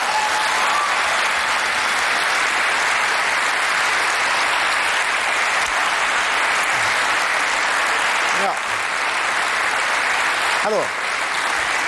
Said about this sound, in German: Kleiner Applaus für die junge Dame.